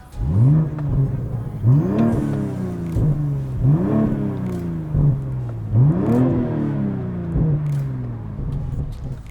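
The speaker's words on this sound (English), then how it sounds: "So the car has already been warmed up, so we can show you a few revs and hear the burble." A warmed-up BMW G42 M240i with a DCE downpipe and Eventuri intake revs repeatedly, four or five sharp rising blips each dropping back to idle with burbling crackles, loud and close, with some talk over it.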